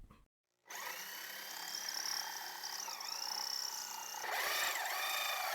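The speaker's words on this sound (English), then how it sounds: "I'll position the drill bit exactly at the hole that was started and make the cut." A power drill fitted with a 127 mm hole saw cuts into wood, starting after a brief silence and running as a sustained whining grind with shifting pitch and a louder stretch near the end.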